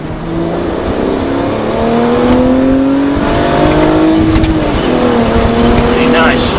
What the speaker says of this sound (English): I think we should do an acceleration test in this beauty.